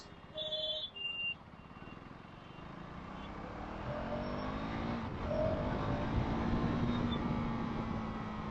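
A steady 2025 KTM Duke 390 motorcycle engine drone runs throughout while riding, rising slightly in level after a couple of brief higher tones near the start, with no talking.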